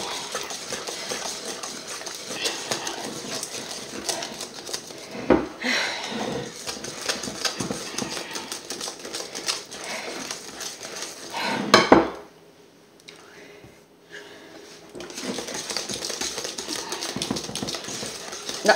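A utensil stirring a thick tiramisu mixture in a bowl, with repeated scraping and clinking against the sides, loud and steady, pausing briefly near the end before resuming.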